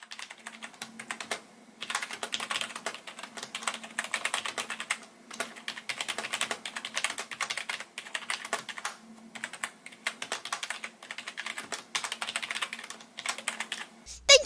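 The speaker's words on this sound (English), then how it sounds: "Now for a quick sound test." Steady typing on a Logitech G213 keyboard: rapid, close key clicks and taps in an uneven rhythm with brief pauses, lasting throughout, no talking.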